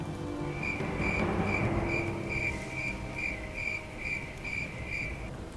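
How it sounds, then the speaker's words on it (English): Crickets chirping outdoors, a steady pulsing trill repeating about every half second over a low background rumble, moderately loud and continuous with no voices. "can you hear these crickets?"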